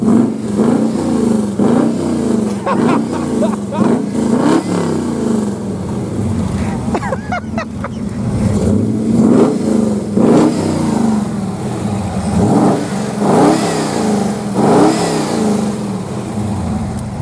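A loud hot rod engine revs up and down repeatedly in bursts, close by, with a rough exhaust note and audible intake suction; a voice speaks briefly over it, at Atlanta Motor Speedway.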